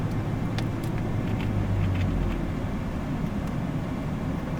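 Ferrari 488 GTB on a racetrack, a steady low engine drone and road roar held throughout at moderate level, with no talk over it.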